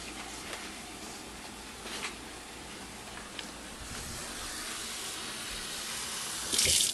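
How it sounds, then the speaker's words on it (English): Hot water running from a kitchen tap into a can holding onion soup mix, a continuous close hiss and splash that stays steady throughout and swells louder at the very end. "I'm going to fill my can up with some hot water."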